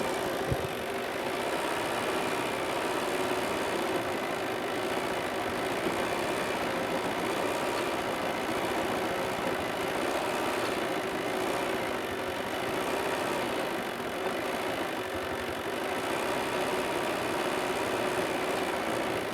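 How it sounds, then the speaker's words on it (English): A Bernina 770 embroidery machine stitching a design at full speed gives a steady, fast mechanical whir and rattle that runs unbroken and close, with no talking. "You can hear the machine going a lot faster than when I started"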